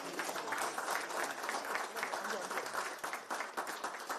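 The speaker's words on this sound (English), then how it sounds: "Keep the claps coming" Continuous, dense audience applause at a live Business Continuity Awareness Week 2025 awards ceremony, many hands clapping steadily at moderate volume without a break and with no speech over it.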